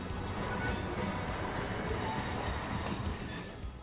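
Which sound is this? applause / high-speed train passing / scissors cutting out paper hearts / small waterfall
high-speed train passing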